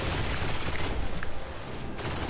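Shooting powers firing in a Saints Row video game, a rapid, continuous stream of loud crackling shots over a few seconds, with a short lull near the end before it resumes.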